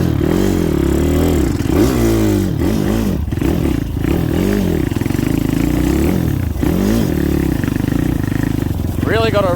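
Pit bike engine puttering and revving unevenly while crawling through bush, loud and close, with repeated rises and dips in pitch as the rider works the throttle, and someone talking over it.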